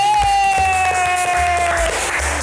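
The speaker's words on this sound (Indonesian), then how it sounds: "so tepuk tangan dulu dong untuk kita semua" Studio audience applause during an Indonesian talk show, a dense wash of clapping that runs for a couple of seconds, with a steady sustained tone and a voice faintly over it.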